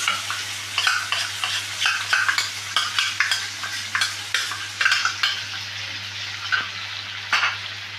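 Masala paste for doi rui kalia, a Bengali yogurt rohu fish curry, being stirred in a pan: a steady run of scraping, clicking strokes over a soft sizzle, close and fairly loud, with a constant low hum beneath and no talking.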